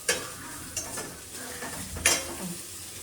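Food is stirred in a hot pan, with a few scraping strokes of a spoon against the metal over a soft, continuous sizzle, close by.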